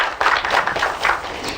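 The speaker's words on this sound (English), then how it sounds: "A big round of applause for Mr." Applause for a speaker at a seminar on intellectual property and patents: a short burst of clapping from a modest audience, fairly steady and moderately loud for under two seconds.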